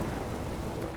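Rain and thunder in the video game Witcher 3, a dense, steady roar of rainfall with a low thunder rumble, loud and continuous.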